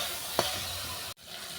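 Okra and ivy gourd leaves frying with turmeric give a brief, even hiss of oil with one sharp clink before the sound cuts off abruptly.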